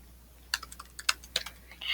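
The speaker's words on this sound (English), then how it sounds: "now I'm going to start typing." Keystrokes on a computer keyboard while typing a research paper draft in Google Docs: sparse, irregular clicks in short clusters, close and quiet, with no talking.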